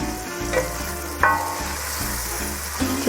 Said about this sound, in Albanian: dhe na duhet që ta trazojmë pak